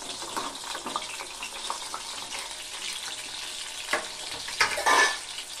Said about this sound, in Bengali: দ্বিতীয়বার আমি চিকেনটাকে আবার ফ্রাই করে নিলাম